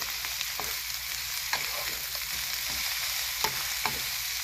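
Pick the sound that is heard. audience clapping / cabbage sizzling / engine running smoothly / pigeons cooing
cabbage sizzling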